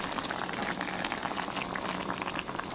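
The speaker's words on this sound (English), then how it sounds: "we're just gonna pour it all over" Whisked eggs poured into a soupy herring fish sauce in a pan: a steady, dense bubbling sizzle and liquid hiss, constant and close throughout.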